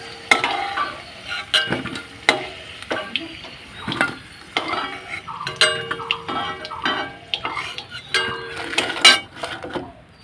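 Meat browning in a pan for kosha mangsho, with a low sizzle under repeated clinks and scrapes of a utensil stirring, close and busy.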